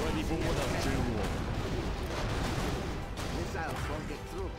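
Artillery fires in C&C Generals (Contra X mod), a dense, continuous roar of booming shots and blasts running through the whole stretch, with unit voice lines heard over the barrage.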